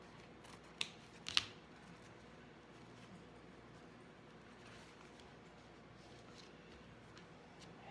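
Two sharp, close scissor snips cut a piece of white material for a small Christmas lantern centerpiece, then a long, quiet pause follows.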